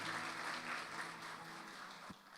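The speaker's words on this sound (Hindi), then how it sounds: "ज़ोरदार तालियां बजाइए।" Congregation applause at a Good Friday service in an Apostolic church in the UAE: steady, dense clapping fills the whole stretch, easing slightly toward the end.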